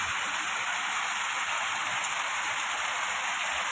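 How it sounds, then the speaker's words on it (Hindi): Heavy rain pours down steadily and loudly, a dense, unbroken hiss of drops close by with no voices over it. "देखते केते जोर वर्षा हो"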